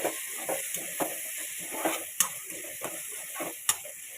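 Potato and beans curry stirred in a pan, with a quiet frying sizzle under repeated light scraping and tapping strokes of a spoon against the pan, irregular and close, no talking.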